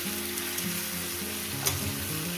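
Pointed gourd and pumpkin frying in a pan, a continuous dense sizzle with a low background hum and one brief stir near the end, no voices.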